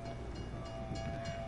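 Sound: train passing in Cold War Zombies video game map

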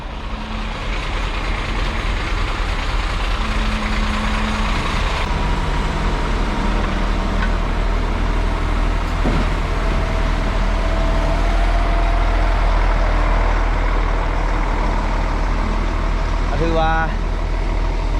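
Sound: truck arriving at a house construction site

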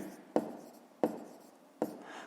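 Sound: writing

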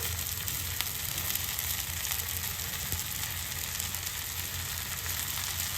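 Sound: ragi vermicelli added to a pan of sautéed tomatoes, frying

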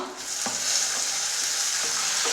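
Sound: chopped tomatoes added to browned onions, sizzling

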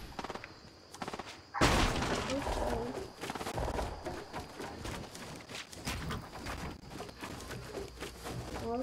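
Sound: gunfire in a video game

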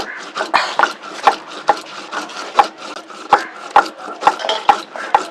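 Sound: grinding cumin seeds on a grinding stone

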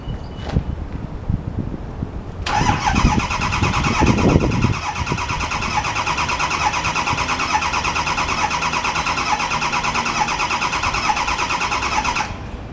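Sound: Ford F-350 6.4 liter engine cranking but not starting

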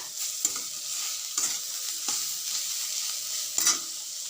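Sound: frying water spinach (kolmi greens) in a pan

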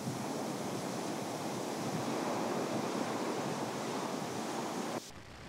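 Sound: ocean waves splashing onto Kīlauea lava flow

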